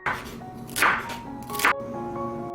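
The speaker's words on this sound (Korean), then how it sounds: "빨강, 노랑 파프리카 반개도 채 썰어주세요." A kitchen knife slices halved red and yellow paprika into thin strips on a cutting board, giving a few close, crisp cuts and soft scraping strokes with a low background hum and no speech.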